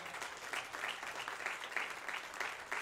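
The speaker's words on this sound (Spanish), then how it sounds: "Denle un aplauso, Señor, por su bondad." Faint applause from a church congregation, a soft patter of clapping pulsing steadily for a few seconds.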